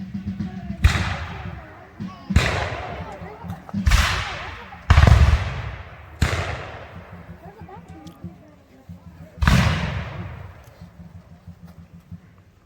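Six musket shots crack out at irregular intervals at the Battle of Camden re-enactment in South Carolina, each loud report echoing and fading, with voices faintly audible between volleys.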